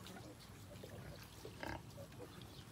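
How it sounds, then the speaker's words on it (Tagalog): Piglets in a farm breeding pen, faint grunts and soft oinks over a low steady background hum with a brief louder squeal midway. "So yan po, malilikot na ang ating mga biik."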